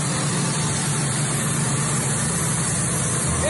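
A large air compressor runs steadily outdoors, giving a continuous loud low rumble with a broad hiss on top and no pauses or talk throughout.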